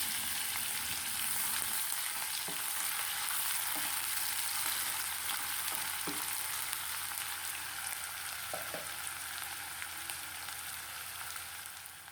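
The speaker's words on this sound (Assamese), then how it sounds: "পিঁয়াজটো অলপ গল্ডেন কালাৰ হোৱালৈকে ভাজি থাকিম" Onion frying in hot oil in a home kitchen pan, a steady broadband sizzle that runs the whole time with a few soft stirring knocks, close and fairly loud, no voices.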